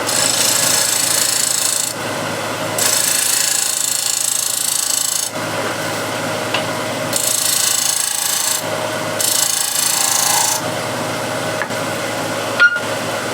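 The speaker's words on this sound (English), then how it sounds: "So here I'm going to shear scrape." Hand shear scraping across a wood surface, steady rasping strokes in several long passes with brief pauses between, close and fairly loud with no talk.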